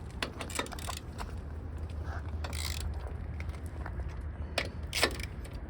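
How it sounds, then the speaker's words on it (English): A torque wrench tightens car wheel lug nuts to 150 foot-pounds, with a few sharp metallic ratchet clicks and clanks over a low steady background hum. "gotta torque those wheels"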